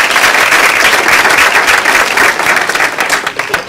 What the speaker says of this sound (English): The claps are for you, babe.